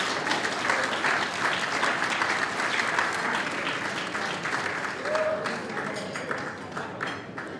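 An audience at a university alumni awards ceremony gives sustained applause for the Roses a cappella group, a dense, even clapping from many hands that gradually softens toward the end, with faint voices mixed in.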